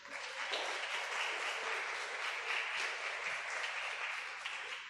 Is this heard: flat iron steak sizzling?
no